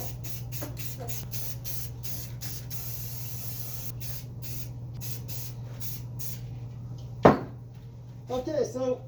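Glossy clear coat is sprayed from a can onto plastic Lorica Segmentata armor in a rapid series of short hissing bursts over a low hum, followed by a sharp knock and a brief voice.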